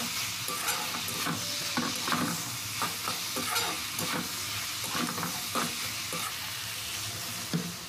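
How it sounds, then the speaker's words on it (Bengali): Green beans and potato stir-fry in a kadai with a steady sizzle, after a splash of water has been added. Repeated scraping and clattering strokes from stirring keep a loose rhythm throughout, close and fairly loud, with no voices. "দিয়ে ভালো করে সবজিটা এখানে কষে নিতে হবে।"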